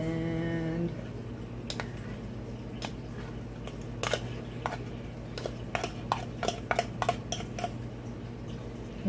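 Spoon clinking and scraping against a dish while canned tuna is stirred and broken up for a tuna spinach casserole, a scatter of sharp clicks and taps over a steady low hum, no talking.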